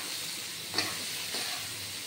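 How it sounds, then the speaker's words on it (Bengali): Soya chunks and vegetables fry in a pan with a packet of Maggi masala, giving a soft, steady sizzle broken by two light stirring scrapes, with no voices. "ভাজা ভাজা করবো।"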